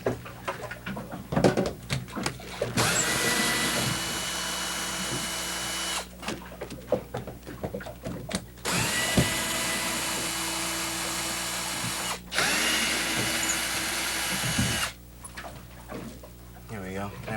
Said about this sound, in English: take the drill and unscrew this light